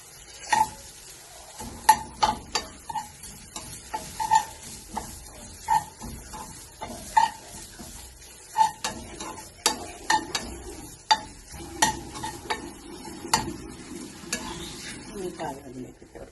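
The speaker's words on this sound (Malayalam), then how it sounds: "ഇതിലേക്ക് കുറച്ച് തേങ്ങ ഇട്ടോട്ടെ. നമുക്ക് തേങ്ങ ഒന്ന് വരട്ടെ." Grated coconut roasts in a pan for a steamed banana ragi halwa, a spoon scraping and stirring in repeated strokes about every second over a faint, dry sizzle, close and moderately loud with no talking.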